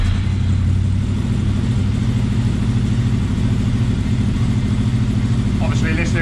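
A 2003 Honda VFR800 VTEC motorcycle engine running steadily after starting, a loud, close, continuous low rumble that holds evenly throughout.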